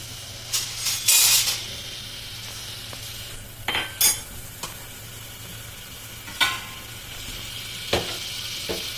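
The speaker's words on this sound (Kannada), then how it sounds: "ಇವಾಗ ಎಣ್ಣೆ ಹಾಕೊಂಡು ಈರುಳ್ಳಿ ಮತ್ತು ಮೆಂತ್ಯ ಹಾಕ್ತಿದ್ದಾರೆ" Onions and fenugreek frying in hot oil in a home kitchen, a low steady sizzle with scattered scrapes and clinks of a stirring utensil against the pan, close and moderately loud with no talk.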